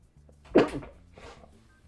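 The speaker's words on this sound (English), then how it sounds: "I gotta sneeze." A single sharp, close sneeze bursts out and fades into a softer exhale.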